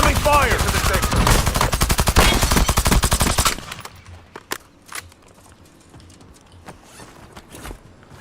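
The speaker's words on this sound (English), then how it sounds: "Incoming fire!" Rapid automatic gunfire in the video game Warzone, a dense loud burst for about three seconds, then several scattered single shots and distant pops at lower level.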